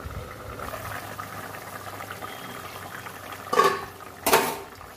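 Fish curry with kohlrabi and potato simmering in broth in a pan, a low steady bubbling hiss broken by two brief louder sizzling bursts near the end, close and without talk.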